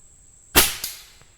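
One sharp crack from a Gamo Swarm Bone Collector air rifle, then a faint metallic ping from the target a fraction of a second later, with no talk.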